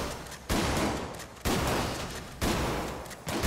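A shotgun in GTA 5, fired from the hip with buckshot, booms four times at roughly one-second intervals, each loud blast trailing off in a fading echo before the next, with no talking.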